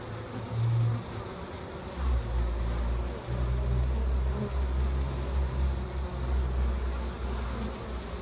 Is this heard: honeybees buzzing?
yes